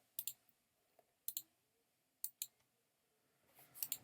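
Computer mouse clicking in quick pairs, crisp and close, spaced across a quiet room with a short flurry of clicks at the end.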